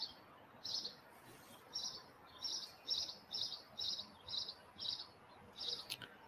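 Small birds at a backyard feeder give a run of about ten bright, evenly spaced chirps, fairly close and clear over a faint, steady outdoor hiss, with no talking.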